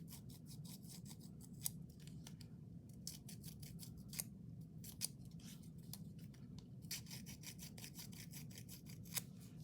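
Paper tag edges being distressed by hand, giving soft, rapid, scratchy scraping strokes with occasional sharper ticks, faint and close, with no talking.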